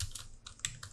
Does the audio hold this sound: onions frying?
no